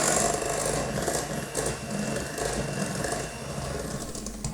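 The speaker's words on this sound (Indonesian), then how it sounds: "Mixer lagi sampai rata." An electric mixer runs steadily through pukis batter after yeast is added, giving a continuous close whirring drone without pause for the whole few seconds, no voices.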